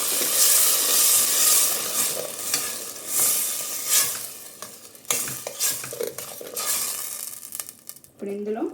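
Tomato puree going into fried onions in a pan for paneer pulao, making a loud hissing sizzle broken by repeated stirring scrapes, with a brief voice right at the end.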